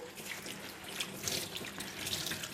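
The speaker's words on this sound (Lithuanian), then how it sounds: "Šlapinam šluostę su vandeniu." Tap water runs steadily into a sink as a cleaning cloth is wetted, a continuous close splashing hiss with no voices.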